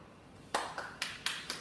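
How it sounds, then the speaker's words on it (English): A tiny audience of about eight people gives a few sharp claps after a speech; five distinct claps land close together in an even rhythm, with no talking. "One applause"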